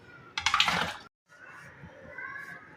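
Goat trotters dropped into hot water in a clay pot, with a short, close splash and sloshing burst, then a brief silence and quieter watery movement and handling sounds.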